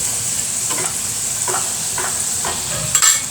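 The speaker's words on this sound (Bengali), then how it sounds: "আস্তে আস্তে ভালো করে ভেজে নিতে হবে যেন ভিতরটা সহ মুচমুচে হয়ে যায়" Egg-dipped atta and potato rotis frying in hot oil, a continuous bright sizzle with a few soft stirring or turning clicks, close and steady throughout.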